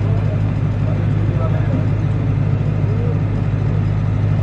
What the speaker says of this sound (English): they switched on the gen set, the backup power generator